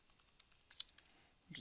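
Computer keyboard keys tapped while entering a map title in QGIS software: a few scattered, light, close clicks spread unevenly across the moment, with a louder cluster near the end.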